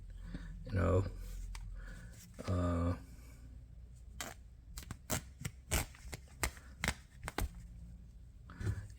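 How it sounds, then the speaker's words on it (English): A Rough Rider Stockman pocketknife cuts through old cotton underwear in a series of short, sharp snipping and slicing sounds, some in quick bursts, following two brief stretches of nearby talk. "I'm cutting it up with my Rough Rider Stockman"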